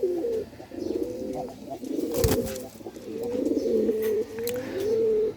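A small pigeon coos in repeated soft, throaty rolling phrases, close and fairly loud, with a sharp knock or flutter in the middle and faint background noise.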